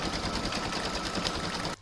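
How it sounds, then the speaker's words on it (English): An embroidery machine stitches an in-the-hoop oven mitt with a steady, rapid mechanical chatter that runs close and loud throughout, then cuts off abruptly near the end. "now going to pop that in my machine and stitch round number 8 to secure it"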